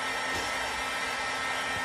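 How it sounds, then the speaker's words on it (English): A heat tool blows hot air steadily across a craft page, a continuous loud whirring hiss with a faint motor hum, unbroken for the whole stretch with no talking. "you can just use your heat tool to move things across your page"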